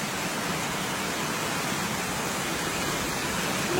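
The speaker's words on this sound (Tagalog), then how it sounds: "Lakas na ng ulan." Heavy rain pours steadily during a fishing trip at sea, a loud, even hiss with no breaks throughout.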